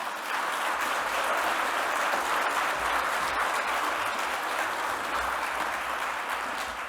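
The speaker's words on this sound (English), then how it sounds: "So one more time, give her a great big round of applause." Audience applause at an Indigenous-led clean energy gathering, a steady, dense wash of clapping from a large crowd that holds evenly for about seven seconds with no talking over it.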